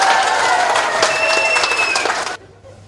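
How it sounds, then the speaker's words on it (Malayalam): A dense burst of clapping fills a hall as the audience at a talk applauds, steady and loud for about two seconds before cutting off sharply. "നന്നായിട്ട് കൈയടിക്കണം"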